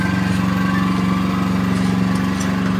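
A Toyohama 7500i inverter portable generator runs steadily under load with several tools connected, giving a loud, even engine drone with a constant hum and no breaks or speech.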